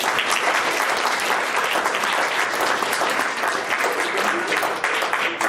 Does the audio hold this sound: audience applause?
yes